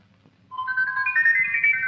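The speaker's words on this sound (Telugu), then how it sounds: "నీ ఫోన్ రింగ్ అవుతుంది." A mobile phone ringtone plays a bright, steady electronic melody, starting after a brief quiet moment and ringing loud and close without any voices.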